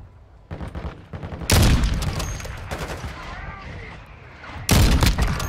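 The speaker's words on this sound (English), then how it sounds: "Our mortar strike is inbound" Mortar strike explosions in Call of Duty, several heavy booms landing in bursts amid crackling gunfire, loud and close with sharp onsets, some speech-like sound mixed in.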